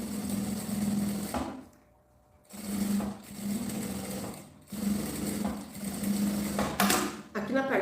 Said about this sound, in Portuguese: E agora aqui eu vou fazer uma costurinha bem na beiradinha em toda a volta.